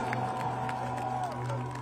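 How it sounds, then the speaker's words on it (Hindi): Loud crowd applause and cheering at a Sufi music concert in Ludhiana as a social worker is honoured, steady and dense throughout with a sustained musical drone underneath. "पहले जोरदार तालियां"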